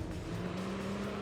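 Pagani Zonda racing in Gran Turismo 3 on PS2 gives a steady, close engine drone with a sustained tonal hum throughout a brief moment, with no pauses.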